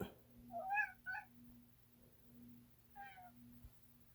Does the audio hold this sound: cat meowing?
yes